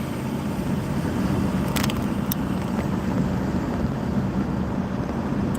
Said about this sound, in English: Just look at that traffic.